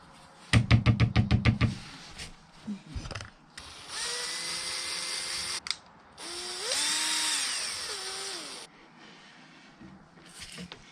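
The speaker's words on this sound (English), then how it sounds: "Use the existing screw holes here from the original fan to screw that piece of wood up" A power drill drives screws through a wooden frame into existing holes while a roof fan is fitted in a van conversion: a quick burst of ratcheting clicks, then two long whining runs that rise in pitch, close and loud, with short pauses between.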